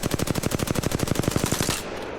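An R301 rifle fitted with an extended mag fires a rapid, evenly spaced automatic burst of about twenty shots in a video game, loud and close, cutting off abruptly before a short fading tail.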